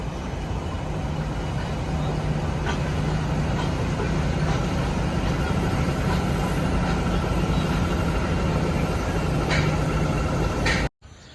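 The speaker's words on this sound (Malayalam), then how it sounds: "ഇതാണ് കേട്ടോ നമ്മൾ മേട്ടുപ്പാളയത്ത് നിന്ന് വന്ന എഞ്ചിൻ" The Ooty toy train engine that came up from Mettupalayam, standing at Coonoor, gives a steady, loud rumbling hum with faint clanks for about eleven seconds before cutting off abruptly.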